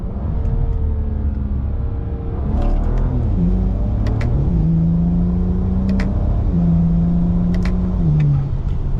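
A BMW N54-engined Alpina car accelerates at mid to three-quarter throttle on a private road, its engine note rising steadily, then dropping at each early upshift before climbing again, loud and close throughout.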